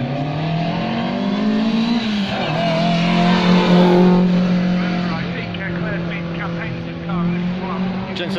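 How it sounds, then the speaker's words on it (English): A Jensen Healey sports car with a slant-four Lotus engine drives past at a Shelsley Walsh hill climb, its engine note rising and swelling as it nears, then fading, with talk over it. "Here comes the Jensen Healey."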